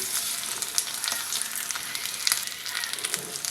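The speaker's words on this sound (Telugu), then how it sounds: "ఇప్పుడు దీనిలో నువ్వులు ఒక హాఫ్ కప్ వేస్తున్నాను" Half a cup of sesame seeds sizzle in a hot pan for a tamarind chutney. The sizzle is an even, close hiss with scattered sharp crackles and pops, and no talk.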